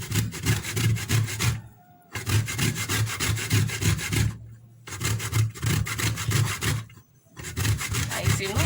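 Citrus peel rubbed gently on a grater for zest, heard as close rasping strokes in four rhythmic bursts with short pauses between them.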